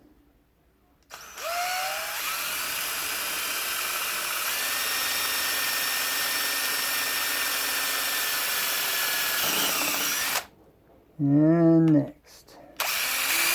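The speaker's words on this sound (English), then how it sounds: "now we're just going to drill straight through" A power drill bores straight through a clamped pen blank for a Handel's pen, a steady loud whine running for about nine seconds before stopping, followed by a brief spoken voice.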